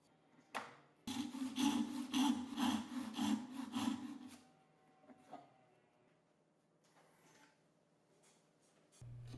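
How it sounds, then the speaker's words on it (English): A hand saw rasps down a dovetail line in wood, guided by a jig, in a steady burst of close back-and-forth strokes that stops after a few seconds, followed by quiet handling. "I start sawing down the line and making sure to stop before hitting the scribe line at the bottom"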